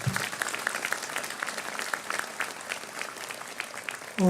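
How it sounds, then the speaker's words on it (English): Graduation convocation audience at an outdoor-style ceremony applauding steadily for the families, dense even clapping throughout, ending with a sudden loud voice cutting in. "So let's have a round of applause for the family."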